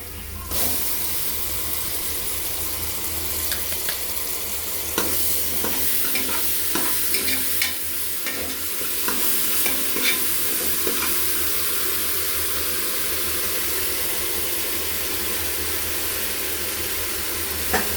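Onions and ginger-garlic paste frying for chicken biryani and being stirred in a pot, a steady loud sizzle under occasional scraping clatter of the spoon throughout.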